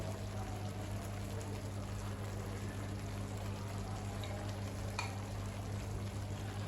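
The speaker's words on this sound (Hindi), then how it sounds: "इस तरह से चिकन ऐड करेंगे हम।" Boiled chicken with its cooking water goes into a pan of frying rice for restaurant-style chicken and vegetable fried rice, giving a steady low sizzle and bubbling hiss throughout with no talk.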